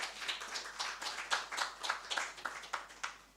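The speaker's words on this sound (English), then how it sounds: "Shall we please welcome him with a round of applause, please?" Audience at a formal national economic dialogue event clapping to welcome the Minister of Finance, sparse individual claps in a loose irregular rhythm, moderately quiet and with no voices over it.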